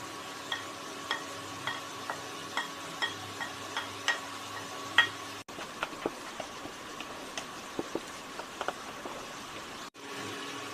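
Onion, capsicum and green chilli are stir-fried in a pan, a soft steady sizzle broken by regular scraping strokes of a spatula at roughly half-second intervals, with no talk.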